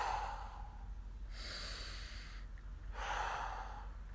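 Slow, audible breaths in and out during a guided morning breathing and stretching exercise outdoors in the sun, soft airy exhales rising and falling in a steady rhythm close to the listener with no talk.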